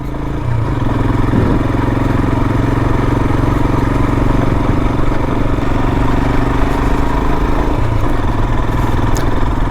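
A Royal Enfield Himalayan engine labours steadily in third gear at about 3,000 RPM while climbing a steep gravel mountain hill, a loud continuous thrum with a constant close drone throughout.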